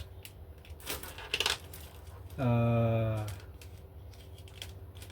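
Coins clatter as a piggy bank is opened and emptied: a single rattling cascade lasting about a second, fairly loud and close, with a few smaller clinks and handling sounds just before it.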